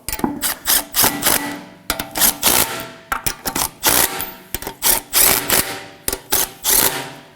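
Lug nuts on an Acura MDX wheel being snugged up with a rapid impact or ratchet tool, close and loud, in repeated short bursts of clattering hammering with brief pauses between.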